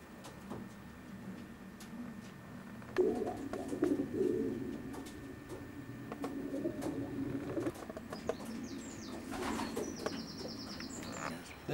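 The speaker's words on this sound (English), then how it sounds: "Good quality pigeons." Racing pigeons in good old-fashioned stock lofts coo softly and murmur, with light wing flutters and chirps against a steady low background hum.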